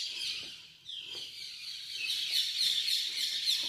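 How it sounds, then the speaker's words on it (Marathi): A parrot calling at a hilltop fort, a series of sharp, high chirping squawks that grow louder and more insistent toward the end, heard at moderate distance without talk. "पोपट."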